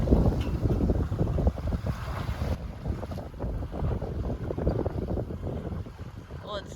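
Strong wind buffets a sailboat under a strong wind warning, a loud rumbling roar with gusty swells and mic buffeting, water sloshing beneath it and no clear voices.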